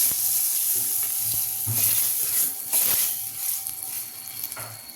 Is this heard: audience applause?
no